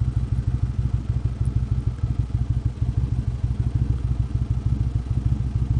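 Indian Roadmaster motorcycle cruising on a highway, its engine giving a loud, steady low rumble with a fast regular pulse throughout, no voices.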